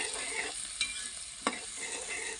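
Onions and green chillies frying in oil for a dhaba-style Punjabi kadhi: a bright, continuous sizzle close by, with two sharp spatula taps against the pan.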